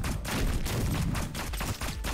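Bomb blasts in the game Neon Abyss come as a dense, loud run of booming bursts, repeated rapidly over a couple of seconds with no pause and no talk.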